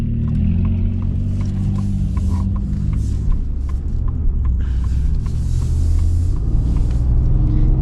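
A 2026 Ford F-150 Lobo with a 5.0 V8 accelerates, heard from inside as a deep, loud rumbling engine drone that swells steadily, with faint ticking and road noise above it.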